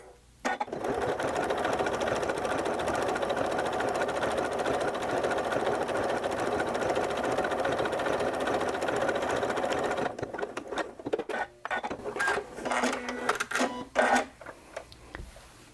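A sewing machine runs a steady, continuous utility stitch along a seam of a quilt-as-you-go block, then breaks into short, stop-start bursts near the end; close and alone, with no talking.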